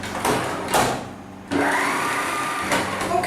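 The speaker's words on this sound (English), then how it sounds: "I'm just going to give this a mix on low speed." An electric mixer runs on low speed through chocolate cake batter, its motor whirring in loud bursts that stop and restart a few times, with beaters clattering against the bowl.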